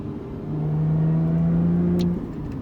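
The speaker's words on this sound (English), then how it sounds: "you'll hear the exhaust valve open right away" A 2020 Lotus Evora GT's engine rises into a deeper, louder exhaust drone as the exhaust valve opens, holding steady for a couple of seconds before dropping back to idle.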